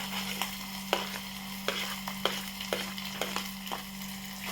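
Onion, capsicum and carrot sizzle softly in a pan while a spoon stirs them, with about ten light scraping knocks at an uneven pace over a constant low hum.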